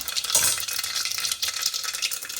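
Asafoetida and cumin hit hot oil with mustard seeds in a pressure cooker, giving a steady, close crackling sizzle with small stirring scrapes.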